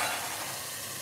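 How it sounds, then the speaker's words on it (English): Sliced leek dropped into a hot frying pan, sizzling with a bright, steady hiss that swells at the start and then settles into a continuous fry, close and alone. "So I'm just going to pop that leek straight in. And again, there we're hearing the sizzle straight away"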